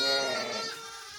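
A single sheep bleats loudly and close by in one wavering, drawn-out cry that fades toward the end.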